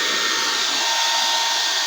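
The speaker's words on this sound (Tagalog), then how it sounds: "So, nag-umaandar pa kasi yung blower natin." A loud, constant electric blower whirs with a steady airy roar and a faint high whine throughout, nothing else heard.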